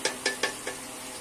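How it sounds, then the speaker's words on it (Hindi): Four quick scraping clinks of a utensil against a pan, evenly spaced, as chicken with tomato is stirred and fried, close and fairly loud over a faint background. "अब हम ये फ्रेंड चिकन को अच्छे तरीके से भूनेंगे 5 से 10 मिनट तक।"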